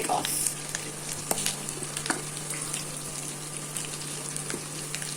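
Garlic sautéing in oil in a pan, a steady close sizzle with faint scraping of stirring and a low background hum throughout.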